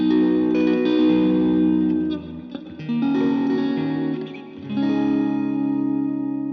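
A Fender Stratocaster Deluxe electric guitar, made in Mexico, is picked near the body, sounding bright sustained tones and chords that ring out, fade briefly, then return, with a wet effects-laden reverb and chorus wash.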